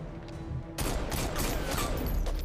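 Dense, continuous gunfire from the video game Saints Row 4 erupts abruptly after a quieter opening and rolls on loud and sustained as a chaotic fusillade to the end.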